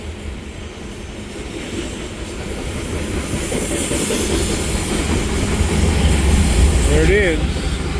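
A BNSF coal train locomotive rumbles past nearby, its heavy rolling noise building to a steady roar with clickety-clack from the rails, while a person speaks briefly over it.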